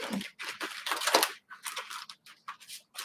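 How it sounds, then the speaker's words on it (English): A deck of tarot cards is shuffled clumsily by hand, making quick papery riffles and flaps in close, uneven bursts with brief pauses, and no talking over them. "that was the least graceful shuffling I may have ever done"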